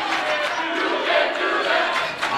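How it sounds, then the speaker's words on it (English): A girls basketball playoff crowd in a gym, Millersburg fans at Upper Dauphin, reacts unhappily to a charge call with a loud, sustained roar of jeers and shouting that stays dense and steady throughout. "The crowd doesn't seem happy with that one"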